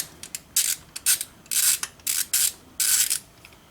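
Ratchet drive loosening a bolt on a BMW N54 valve cover, giving a string of about eight close, dry clicking bursts in uneven rhythm with brief pauses between strokes, no talk.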